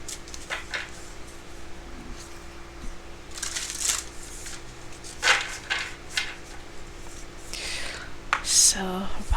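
Sacred Destiny Oracle cards are shuffled by hand in bursts of soft riffling and rustling, with quiet gaps between them and a faint crunchy handling sound near the end.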